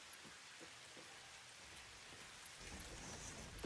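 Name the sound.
rain falling in video game Satisfactory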